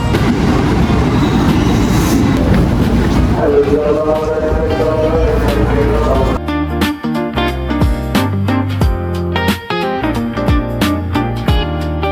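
A train rumbles and clatters through a station with voices over it, then music takes over for the last half.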